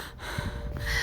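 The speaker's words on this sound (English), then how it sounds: "Her breaths come in quick, gasping bursts as she scrambles through the streets" A woman's quick, gasping breaths while running through streets, close and ragged in short bursts for about a second.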